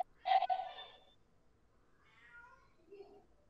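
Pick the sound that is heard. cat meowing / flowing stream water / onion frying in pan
cat meowing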